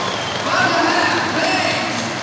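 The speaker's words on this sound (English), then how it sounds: "He gets a huge round of applause from the fans here." Basketball fans in an arena at an ASEAN Basketball League game between Saigon Heat and the BTN CLS Knights, giving a dense, loud round of applause with crowd noise blended in.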